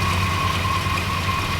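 A car engine idling while running a little rich after sitting unused, giving a steady, close, low rumble with a constant hum and no speech.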